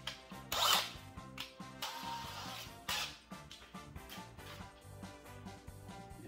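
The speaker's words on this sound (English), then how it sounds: "now I'm going to use a smaller drill bit as a center guide for a bigger one" A power drill boring a pilot hole with a small bit whirs in short bursts, its motor revving up and down in a steady rhythm, close by with no talking.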